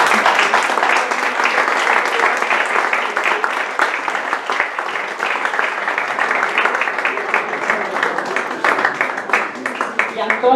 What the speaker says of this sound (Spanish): Un fuerte aplauso para Cristina Rudolph.